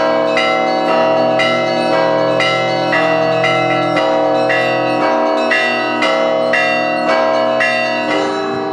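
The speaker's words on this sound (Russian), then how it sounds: "каждый час можно слушать перезвон древних колоколов" Ancient church bells pealing from the belfry of the Euthymius Monastery in Suzdal, a loud, continuous layered chime with regularly repeating strikes ringing out steadily with no voices.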